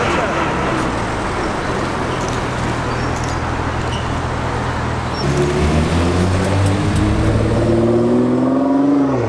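A tuned retro Ford Mustang passes on a city street in India, its engine rising in pitch as it accelerates loudly, with steady traffic noise underneath and talk in the background.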